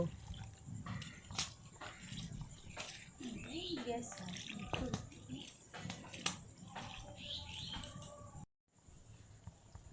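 Water splashing and dripping as chopped pumpkin and red lentils (masoor dal) are washed in a kitchen, with scattered clinks and pours at close range, a short silent gap near the end, and faint voices in the background.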